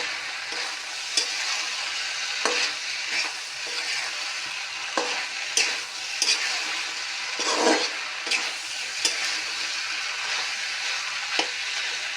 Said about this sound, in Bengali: আর কিছুক্ষণ ভাজা হবে